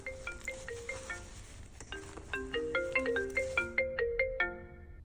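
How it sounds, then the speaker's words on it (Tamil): Electronic mobile phone ringtone chiming a looping melody of short plucked tones, moderately loud and near, with no talk over it. "சபா ஃபோன் மாதிரி இருக்கு."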